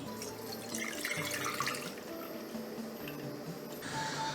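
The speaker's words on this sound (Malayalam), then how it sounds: "ആദ്യം ഇതിലേക്ക് ഒഴിക്കാൻ പോകണം നമ്മൾ ഉണ്ടാക്കി വെച്ച ശർക്കര പാനിയാണ് കേട്ടോ" Jaggery syrup poured into a bronze cooking vessel for bamboo rice payasam, a thin liquid pouring and trickling sound, fairly quiet and continuous, with a brighter splash near the end.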